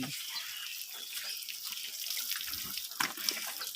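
Water runs and splashes steadily during a cool bath on a hot day, probably from a tap, with a continuous close rush and a few louder splashes near the end.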